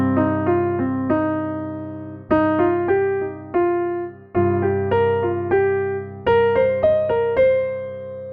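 Piano notes run in quick repeating five-note pentatonic groupings over a sustained low bass, with short pauses between phrases, clear and close.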